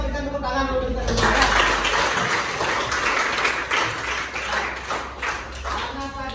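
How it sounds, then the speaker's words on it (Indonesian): A classroom group applauds together after a teacher's call, a sustained wash of many hands clapping at close range that swells and then thins out. "Sekali lagi kita berikan tepuk tangan untuk kita semua"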